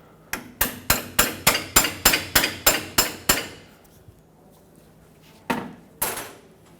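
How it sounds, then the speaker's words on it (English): A hammer strikes a pry bar driven into a tie rod sleeve on a 2000-2005 Ford Excursion, about a dozen sharp metallic blows in quick even rhythm, then a pause and two more separate hits. "I'm going to put a pry bar in the sleeve here and hammer it in"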